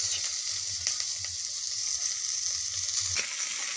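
Onions frying in a pan with cumin and green chillies, a close, continuous hissing sizzle with occasional soft stirring clicks, steady throughout.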